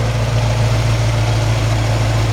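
A 1946 Ford half-ton pickup truck engine idles smoothly, a loud steady low rumble with a constant hum and even vibration throughout, close and uninterrupted.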